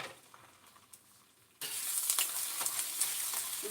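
Fried rice frying on a flat top grill, a bright steady sizzle that kicks in abruptly after a quiet start and holds loud and close, with small crackling pops and stirring scrapes throughout.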